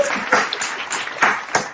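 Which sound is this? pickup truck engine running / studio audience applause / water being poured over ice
studio audience applause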